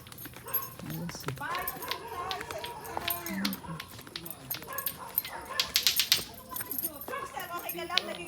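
A dog barks a few times amid outdoor chatter at a mangrove area in Maribojoc, with people talking nearby over a busy, clattering background.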